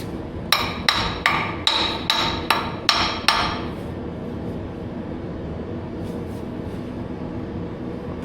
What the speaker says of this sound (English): I need my hammer